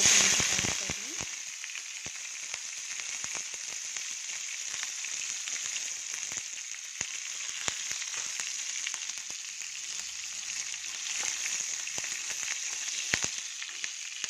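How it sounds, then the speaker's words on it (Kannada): Mustard seeds, chana dal, urad dal and cumin crackling in hot oil in a pan: a steady close sizzle dotted with sharp, irregular pops throughout, with no talk. "ಸಾಸಿವೆ ಕಡಲೆಬೇಳೆ ಉದ್ದಿನಬೇಳೆ ಜೀರಿಗೆ ಹಾಕ್ತಾಯಿದ್ದೀನಿ ಇದೆಲ್ಲ ಸ್ವಲ್ಪ ಚಟಪಟ ಅಂತ ಸಿಡಿಲಿ"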